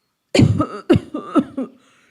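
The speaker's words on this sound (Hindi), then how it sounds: "खांसते हुए बोलती है" A burst of harsh, close coughing, three or four rough hacks in quick succession fading out, apparently a voice acting out the cough.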